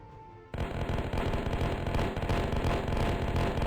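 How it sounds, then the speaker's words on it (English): Cannon fire and impacts battering a mass of troops in the fortress-defense flash game Master of Fortresses, a sudden loud onset giving way to a dense, continuous rumble of bursts and crackling hits with no talk. "Nice cannonball shot there."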